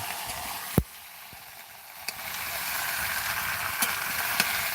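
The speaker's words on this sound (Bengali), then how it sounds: "এইখানে চিকেন রান্না হচ্ছে" Chicken curry cooks in a home kitchen with a soft, steady sizzle and occasional sharp clicks and taps from utensils, fairly quiet and close.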